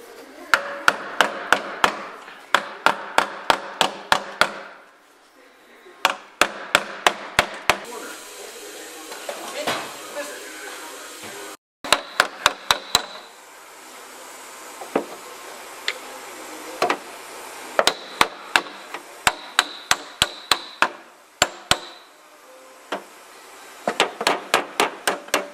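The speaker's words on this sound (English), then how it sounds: "from here on, I'm gonna pound this out and then grind it, see how clean it comes" A hammer pounds out a rusted car body panel in quick clusters of sharp, ringing metallic blows, with short pauses between the bursts.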